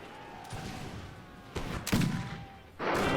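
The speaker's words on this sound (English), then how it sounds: "The lines opened fire" Infantry line volley fire in the Mahdist Rebellion video game: a couple of loud, crackling bursts of massed rifle shots close together, the last one sustained to the end, over a low battlefield rumble.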